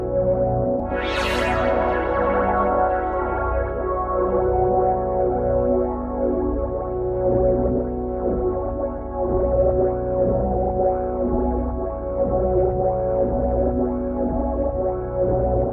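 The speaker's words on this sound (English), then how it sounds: "Let's add a normal LFO to add even more movement to the phaser." A sustained synth pad runs through a UVI Shade phaser driven by an LFO, a steady, loud tone whose sweeping phase motion moves continuously for the whole stretch, with a brief bright swoosh near the start and no voices.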